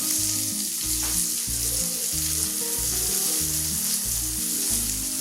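Fried cashews and raisins in hot oil are poured into a Kerala-style beef stew, giving a loud, close, continuous sizzle with a soft bubbling hiss and no talking.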